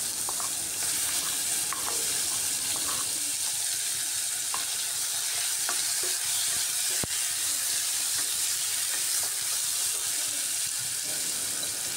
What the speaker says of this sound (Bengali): এবার এর মধ্যে কুচিয়ে রাখা পেঁয়াজ দিয়ে দিচ্ছি।